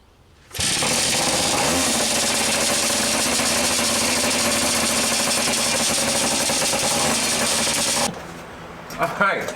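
A Garelli VIP moped engine fires up quickly and settles into a steady, loud, buzzing idle that runs unbroken for several seconds before it cuts off abruptly, followed by a few faint clunks.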